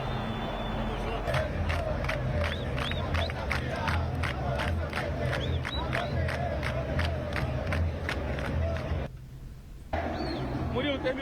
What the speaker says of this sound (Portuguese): essa torcida maravilhosa fazendo a festa